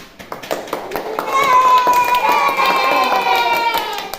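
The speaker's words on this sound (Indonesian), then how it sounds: "Mantap, baru aplaus" A multigrade primary school classroom bursts into applause: sharp scattered claps build into steady clapping, with children cheering and shouting over it at close range.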